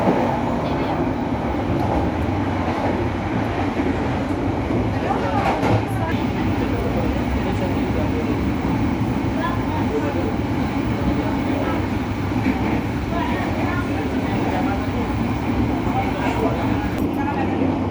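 Constant loud rumble and rattle inside a moving KA Blambangan Express passenger train near the restaurant car, steady throughout with faint track clatter and some indistinct voices.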